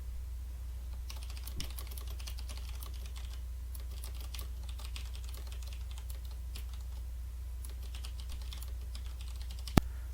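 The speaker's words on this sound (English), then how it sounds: "I am using a cherry red mechanical keyboard." Typing on a mechanical keyboard with Cherry Red switches: a continuous, quick patter of faint keystrokes over a low steady hum, with one sharper click near the end.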